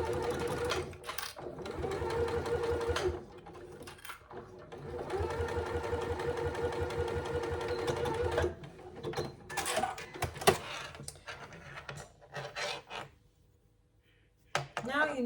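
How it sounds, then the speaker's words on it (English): A sewing machine stitches across the short end of a fabric strap for a zip pouch, running in steady bursts with brief pauses, then giving a few short stops and starts near the end. "we're going to just be sewing across that short end at a 3/8 of an inch seam allowance"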